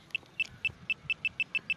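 A metal detector probe checking a dug hole on farmland sounds a series of nine short, high beeps, speeding up slightly, clear against a faint quiet background.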